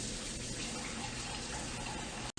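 A kitchen tap runs steadily while a spatula is washed under it, producing a loud, continuous rush of water that cuts off sharply near the end.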